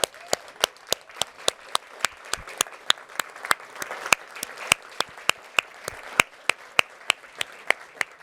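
A standing audience at a town hall event claps for a corporate team. A single sharp, steady, evenly spaced clap stands out close and loud over a faint background of scattered clapping.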